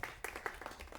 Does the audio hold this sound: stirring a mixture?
no